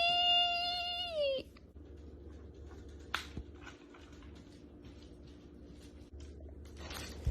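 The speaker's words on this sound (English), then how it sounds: "It's the kitty!" A cat gives one long, clear meow near the start, followed by quieter shuffling and soft patter, then a brief faint chirp near the end in an otherwise quiet room.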